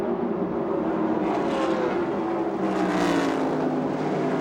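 Field of NASCAR stock cars roaring past at Indianapolis Motor Speedway during the 1995 Brickyard 400, a loud continuous engine drone with rising and falling swells as packs of cars pass close by.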